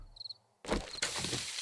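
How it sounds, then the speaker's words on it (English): Crickets chirp at nightfall in the survival game 7 Days to Die, a short pulsing trill first, then a dense, loud wash of insect noise that suddenly swells and fills the rest of the moment. "You'll notice you hear the crickets all of a sudden."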